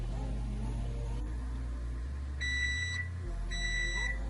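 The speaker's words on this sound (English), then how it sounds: "our muffins are done by the timer" A kitchen oven timer beeps once the gluten-free muffins finish baking: two bursts of rapid, bright electronic beeps, clear and close over a low steady hum.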